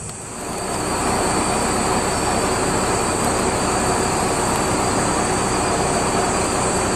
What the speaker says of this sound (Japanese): 隣から入ってくる五所川原行きの列車